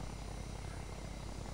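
Aircraft engine in flight in the Arma 3 video game, a steady, loud droning roar with a low rhythmic thrum, continuous throughout and alone, with no talking.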